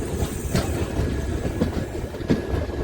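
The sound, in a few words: Jhelum Express train running at night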